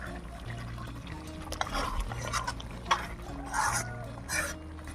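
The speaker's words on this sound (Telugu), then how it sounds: "ఇప్పుడైతే బోటి మిక్స్ చేస్తున్నాము" Boti (goat tripe) curry with cooked tomato being stirred in a cooking pot, soft wet sloshing and faint scrapes and clinks of a utensil against the pot, quiet and close, with a few sharper knocks.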